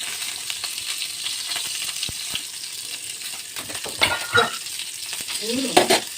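Hilsa fish sizzles in a hot pan while being stirred, a steady crackling fry broken by scraping strokes and a few clinks of utensil against metal near the end.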